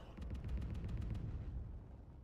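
An anti-fighter turret in Space Engineers fires a quick string of about eight evenly spaced shots, moderately close, before the volley tails off into a low rumble.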